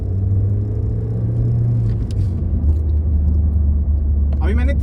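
A 2009 Honda Civic 1.8 in second gear pulls up to about 3000 rpm, a loud, steady low engine drone with road rumble heard from inside the car, over a speaking voice near the end.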